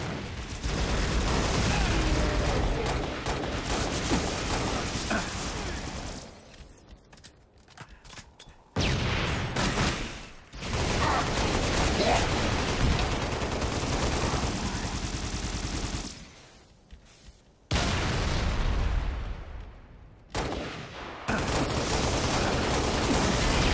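Rockets and gunfire in the video game Halo Reach: dense, loud bursts of weapon fire and explosive blasts roar in long stretches, broken by a few brief quieter lulls.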